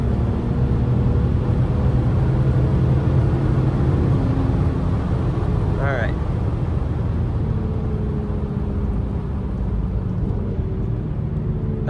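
A BMW N54 engine idles steadily while warming up, giving a continuous low rumble that stays loud and even throughout with no voices.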